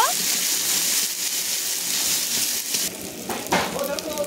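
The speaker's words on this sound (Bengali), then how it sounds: "তো ভালো করে আদা বাটাটাকে ভেজে নেব" Ginger paste frying in a pan for a vegetable shukto, giving a steady hiss and sizzle with some clatter of stirring near the end.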